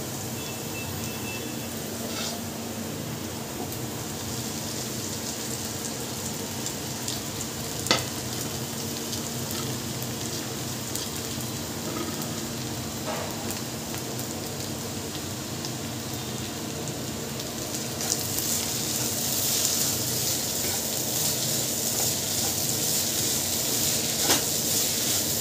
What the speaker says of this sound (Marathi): कढीपत्ता टाकला आहे, मीठ टाकलं, पोहे टाकते आता.